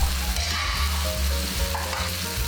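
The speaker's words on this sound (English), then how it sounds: "add the garlic and shallots into the wok and cook for about 30 seconds" Garlic, shallots and dried chili peppers fry in a wok for a Korean Chinese chili shrimp dish, giving a loud, steady sizzle broken by the scrape and clatter of stirring close by.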